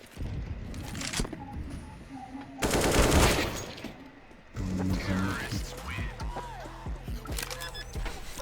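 Counter-Strike: Global Offensive AK rifle firing in bursts, a loud sustained volley in the middle and sharper rattling shots, mixed with other game effects and background talk.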